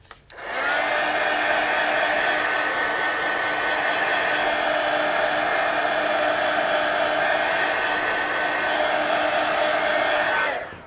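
A hair dryer blows steadily for about ten seconds over a freshly colored adult coloring page, a loud even whir that starts abruptly and cuts off at the end, with no talking.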